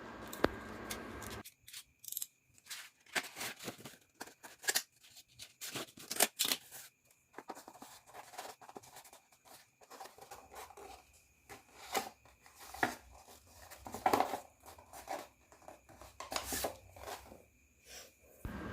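Material being cut in two for a cactus classroom model, with repeated close snips and rustling handling scratches in irregular bursts over about eighteen seconds, no voices.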